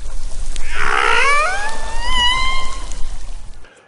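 A loud humpback whale song of long rising, tonal moans and upsweeping whistles, heard alone and close before fading out.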